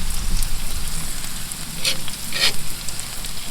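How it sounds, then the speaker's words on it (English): Onions and mushrooms fry in a pan for a steak dinner, giving a steady close sizzle throughout with a couple of brief sharper crackles near the middle; no one speaks. "Get our onions cooked up here."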